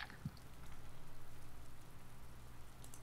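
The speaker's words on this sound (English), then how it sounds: "It's raining!" Soft, steady rain hiss in the video game DayZ, with a low rumble beneath, continuous and even throughout, no voices.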